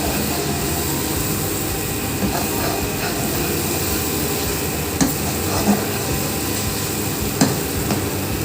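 Liver (kaleji) pieces frying and being stirred with garam masala and black pepper, a steady close sizzle with scraping stirs and a few clinks of the spoon against the pan.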